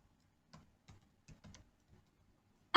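Light, sparse keystrokes tap on a computer keyboard while typing in a notepad, about half a dozen soft clicks spaced irregularly, ending in a sharper louder knock, quiet and close with no talk.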